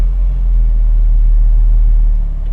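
A supercharged Honda S2000 engine runs on a dyno with a loud, steady, deep rumble that dips slightly near the end as it winds down.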